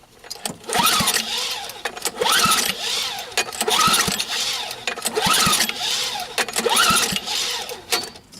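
A Tecumseh snow blower engine is pulled over repeatedly with the choke on, giving about five rhythmic bursts of cranking and sputtering that never catch into a run, loud and close with no talk.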